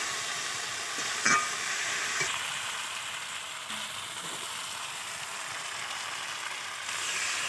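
Okra sautéing with spices in a pan for a mustard-based dish: a soft, continuous sizzle with occasional light stirring scrapes, fairly quiet and steady.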